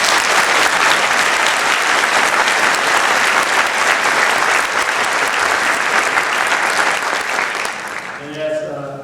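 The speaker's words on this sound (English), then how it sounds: "I'm going to ask this entire audience to give them a round of applause" Sustained applause from an audience at a presidential inauguration ceremony, dense and loud throughout, tapering off at the very end as a voice begins to speak.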